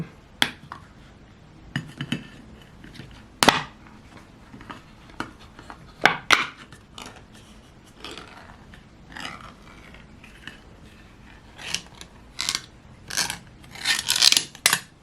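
A can of Brunswick sardines in olive oil is opened by hand: scattered metallic clicks, scrapes and pulls of the lid at close range, irregular and fairly quiet, with no talking.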